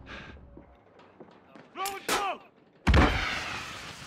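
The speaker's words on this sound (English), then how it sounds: "Yes, I'm getting shot at." Gunfire in the Call of Duty Warzone video game comes in short sharp bursts, with a heavy, loud blast near the end. Excited voices talk over the shots.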